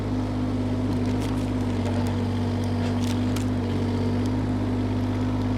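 Groundhog KH25D-2 mini-excavator running its hydraulics, a steady droning engine hum with a constant tonal whine, a few faint clanks and hisses layered on top, continuous and close.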